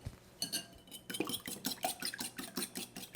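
Rapid clinking of a whisk against a bowl as arrowroot powder crepe batter is mixed, an uneven run of close, bright metallic taps with no talking.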